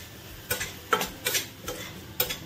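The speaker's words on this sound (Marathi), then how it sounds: "आता हे सर्व आपल्याला मसाले छान मस्त परतवून घ्यायचे" Malvani masala, turmeric and red chilli powder being sautéed in a pan, with a spoon scraping through the spices in short, evenly spaced strokes; quiet and close, with no talking.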